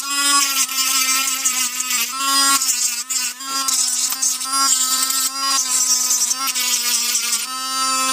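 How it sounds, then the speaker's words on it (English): A high-pitched Dremel rotary tool whines steadily and loudly, its buzzing pitch wavering slightly as it sands down a ShengShou LingLong puzzle cube piece. "You're just sanding it down, make it more flatter."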